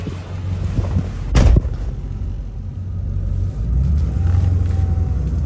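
A 2003 Ford F250 with a 7.3 Powerstroke diesel hauls a load of firewood and accelerates, its engine rumbling low and steady. A sharp thump near the start sounds like a bump in the road.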